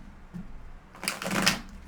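Tarot cards are shuffled by hand in two short bursts of crisp, papery riffling, the second louder and longer, with no talking.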